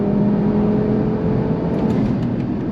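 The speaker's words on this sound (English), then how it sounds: "Oh, the sound of that inline 5." An Audi TT RS inline-five engine hums and revs steadily at close range, a continuous throaty drone with no talking.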